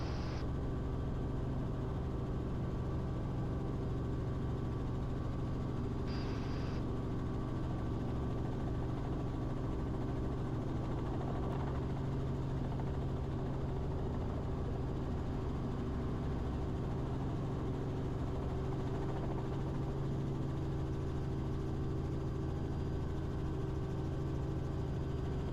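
A helicopter in flight over Asheville, North Carolina, its engine and rotors droning loud and unbroken at high power from the cabin, with no voices over the steady roar.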